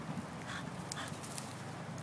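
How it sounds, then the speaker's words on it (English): A dog pants quietly and steadily indoors, with a few faint whimpers mixed in over a low background hiss. "The doggy!"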